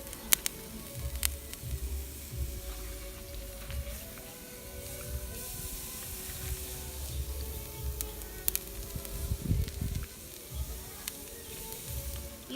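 Steaks sizzle steadily over a charcoal fire, a continuous hiss and crackle with occasional sharp pops, fairly close and alone with no talk.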